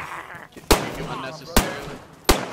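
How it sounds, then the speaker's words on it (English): Three sharp, loud gunshots ring out about a second apart in a zombie video game, each a sudden bang over background game noise and faint voices. "now we got fucking zombies rolling up too, cause we got people shooting."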